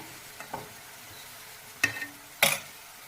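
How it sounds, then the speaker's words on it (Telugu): Fresh curry leaves splutter in a hot pan of oil, quiet frying with a faint crackle early on, then two sharp, loud spattering bursts close together. "ఇప్పుడు ఇదే ప్యాన్లో కరివేపాకు వేసి వేయించుకున్నాం కరివేపాకు పచ్చిగా ఉంటారు కదా అందుకే ఇలా తుల్లుతుందండి"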